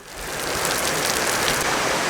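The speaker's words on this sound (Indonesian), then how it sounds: "Akhirnya hujan pun turun dengan sangat deras" Heavy rain pours down steadily at a temple during a birthday celebration in Helvetia, Medan, a dense, loud, continuous hiss with no pauses and no voices.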